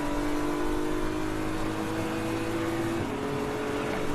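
BMW M4 GT3 race car running in an ESET Cup 2024 endurance race at Brno, heard onboard as a loud, steady engine drone that holds at high revs and shifts pitch about three seconds in.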